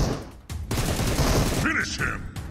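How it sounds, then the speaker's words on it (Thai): Rapid bursts of gunfire from the mobile battle-royale game PUBG Mobile, sustained and loud, with someone talking excitedly over the shooting. "ทุกคนดูเสียงปืน"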